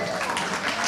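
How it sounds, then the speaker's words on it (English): A studio audience at a live news-review show gives a round of applause to a performing trio, soft and fairly distant clapping that holds at an even level through the brief moment. "Can I have a huge round of applause for the You and Bleach trio?"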